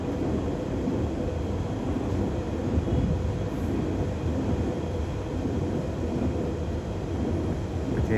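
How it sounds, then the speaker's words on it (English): Elizabeth line empty stock service, unit 345030, passing through Stratford station on the Great Eastern Main Line from Shenfield sidings to Old Oak Depot, a steady, loud, close rumbling roar of wheels and motors sustained across the whole passage. "we now find ourselves a Elizabeth line service passing from Shenfield Stable sidings to Old Oak"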